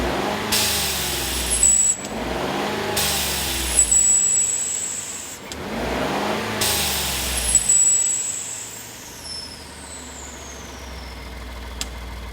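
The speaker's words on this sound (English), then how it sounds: "And now we'll demonstrate the blow-off valve." Blow-off valve on a Ford F-150 with the 3.5L EcoBoost and a front-mount intercooler, three loud whooshing vents a few seconds apart over engine revs, the last one trailing into a quieter idle.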